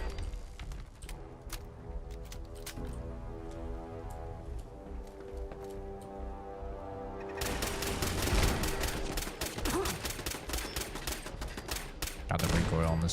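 Repeated gunshots with heavy recoil in Fallout 4, sharp cracks in steady succession that grow louder and denser partway through, over a background music bed.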